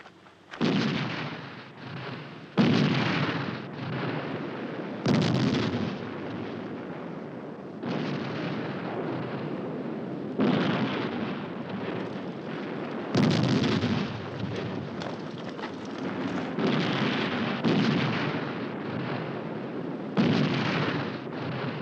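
Heavy artillery booms in a 1969 film of the Battle of El Alamein, with deep blasts roughly every two to three seconds, each one a loud close burst rolling away into a rumbling tail.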